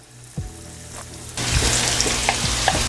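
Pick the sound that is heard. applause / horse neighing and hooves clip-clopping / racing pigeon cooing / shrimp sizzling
shrimp sizzling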